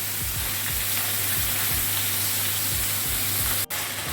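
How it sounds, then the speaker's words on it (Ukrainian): Fish frying in a pan with steady, loud sizzling, and a spatula periodically scraping and stirring it in short rhythmic strokes close up; no talking. "ось так періодично помішуємо і ось так смажимо хвилиночок дві"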